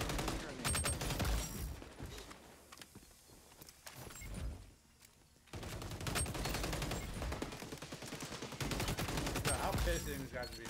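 Rapid, loud automatic gunfire from enemy players in the shooter game XDefiant comes in dense, sustained bursts with a short lull midway, mixed with game effects and voices talking over it.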